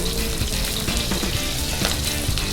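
Kimchi frying in very hot oil in a pan, a loud, steady, dense sizzle that crackles continuously and evenly throughout, with no voices over it.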